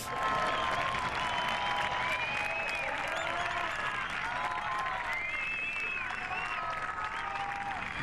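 Golf gallery at the 2022 Acciona Open de España, a DP World Tour event, roaring and applauding steadily from a large crowd, with whistles and cheers rising over dense, continuous clapping throughout.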